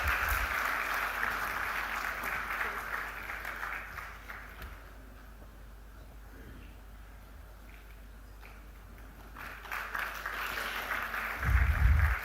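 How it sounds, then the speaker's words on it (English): Audience applause at an awards ceremony honouring women in aviation, a moderate round of clapping that thins out midway, then swells again near the end with a louder burst. "Can we give her a big round of applause, ladies and gentlemen?"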